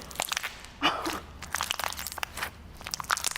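Puffball slime crunches and crackles in quick, irregular bursts up close, each crisp snap rising out of the quiet.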